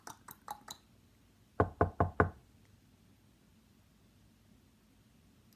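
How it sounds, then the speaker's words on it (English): Knocking on a door in two bursts: four quick, lighter raps, a short pause, then four louder, heavier knocks, followed by near silence with a faint background hiss. "And he knocked on the door."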